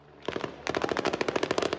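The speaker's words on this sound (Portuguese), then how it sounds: "O som dos tiros acordou os moradores da Chacrinha, na Praça Seca, zona sudoeste do Rio." Gunfire rings out during a police operation in the Chacrinha community of Praça Seca, Rio de Janeiro: a short burst, then a long rapid automatic volley, loud and dense, with no voices.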